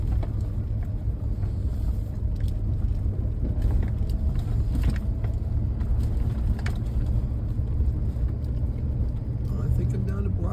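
Four-wheel-drive car driving up a road through a blizzard in Buzzards Bay: a constant low, rumbling engine and road roar with wind noise filling the cabin, and a voice talking over it.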